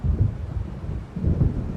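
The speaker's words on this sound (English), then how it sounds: "It seems there's a storm coming." A thunderstorm approaches in Alan Wake as two low rolls of thunder rumble, with a softer lull between them and a steady hiss of rain under them.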